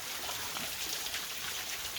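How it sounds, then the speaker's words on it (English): Waterfall at Old Roar Gill, a wooded stream gully near Hastings, giving a steady, soft wash of falling and trickling water that holds even and continuous throughout, heard alone at moderate distance. "have the waterfall in the background as we're finishing off"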